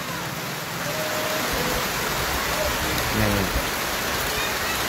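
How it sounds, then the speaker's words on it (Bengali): Heavy monsoon downpour drumming steadily, a dense close wash of rain noise with faint voices and other sounds buried beneath it. "ঝমঝম করে মুষলধারে বৃষ্টি শুরু হয়ে গিয়েছে"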